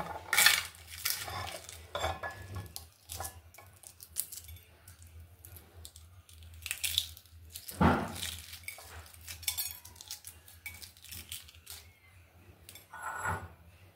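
Boiled, peeled eggs crumbled with a metal utensil against a dish, giving scattered clinks and scrapes over a steady low hum, close and moderately loud, with no talking.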